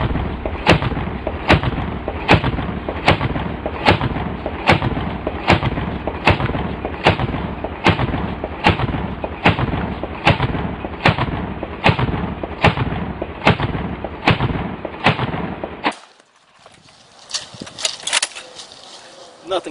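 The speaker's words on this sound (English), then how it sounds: "really cool thing about the AA-12 is that it has absolutely no recoil" An AA-12 automatic shotgun fires a long string of about twenty loud, evenly spaced blasts at close range, each shot booming with echo, before the firing stops and quieter rattling and handling noises follow.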